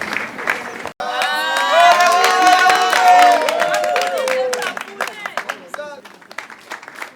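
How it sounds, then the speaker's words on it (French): An audience applauds after a speech in the Democratic Republic of Congo: loud, dense clapping and some cheering swell for several seconds, then thin out into scattered claps. "So we clap."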